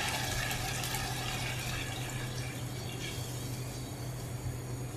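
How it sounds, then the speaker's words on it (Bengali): Water pours steadily into a pot of Bengali rohu fish curry, a continuous close splashing trickle with no talk. "এখন আমি প্রয়োজন মতো পানি দিয়ে দিচ্ছি"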